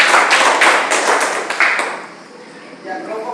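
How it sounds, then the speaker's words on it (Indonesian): A small classroom group gives a round of clapping for a presenting group, a brief burst of hand claps that fades out after about two seconds. "Berikan aplaus untuk kelompok 1 dulu."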